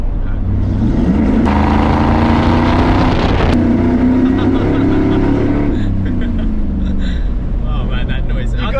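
A Ford F150 Lightning replica truck built as a Fast and the Furious replica drives past close and loud, its engine revving up to a sustained roaring pitch, then easing back down.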